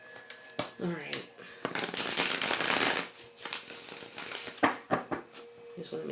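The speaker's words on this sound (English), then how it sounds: "Just want to make sure they're shuffled really well." Cards riffled and shuffled up close, a long dense ruffle in the middle framed by sharp taps and snaps.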